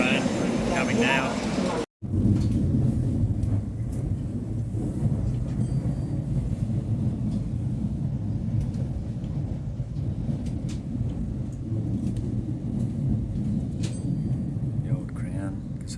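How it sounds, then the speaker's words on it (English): A deep, steady rumble of a train arriving at an Australian station fills the whole stretch, with a brief cut near the start and faint voices mixed into the low roar. "It's my train coming now."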